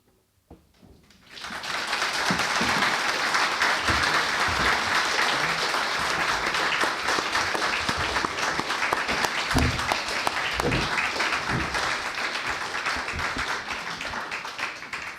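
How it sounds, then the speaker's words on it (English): After a brief quiet moment, a crowd bursts into sustained applause, loud and steady clapping filling the room until the end. "maybe we get a round of applause for everybody at the table"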